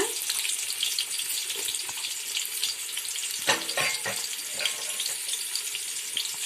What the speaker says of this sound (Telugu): దీన్ని ముందుగా ఆనియన్స్ ఉన్నాయండి, వాటిని పొడవుగా కట్ చేసుకుని వాటిని ఫ్రై చేసుకోవాలండి.